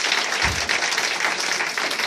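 A church congregation at a Sunday worship service at Centre Peniel claps steadily in acclaim of Jesus, a dense, loud wash of applause filling the space throughout.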